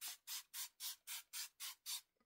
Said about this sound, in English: I'm going in with this La Cura setting spray, which is the dupe of the Charlotte Tilbury, so I spray quite a bit